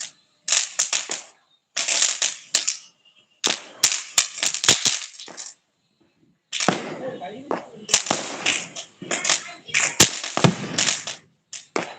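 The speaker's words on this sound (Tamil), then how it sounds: "துப்பாக்கி அந்த பக்கம் பார்த்து சுடுங்க" Toy cap gun fired during Diwali festivities, heard as bursts of sharp crackling snaps in several clusters, with brief pauses between and voices around.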